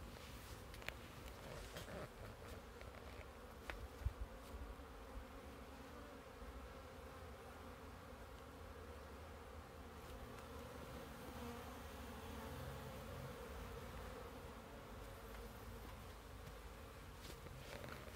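A steady, low drone of about 250 bees buzzing together in winter, continuous and fairly quiet, with a few brief faint taps early on.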